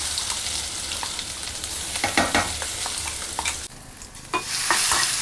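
Spice paste for Mumbai vada pav frying in hot oil in a pan, a steady close sizzle with scraping stir strokes and clinks, briefly dipping before the frying swells louder again.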